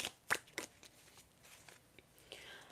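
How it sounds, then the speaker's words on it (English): Tea leaf oracle cards being shuffled by hand, with two sharp riffling bursts near the start followed by softer scattered card flicks, close and quiet, with no talking. "I'm going to shuffle to get two last messages for you with tea leaf cards"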